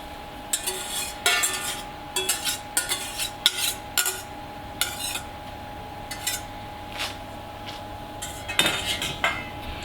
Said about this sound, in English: So I'm just going to stir that around.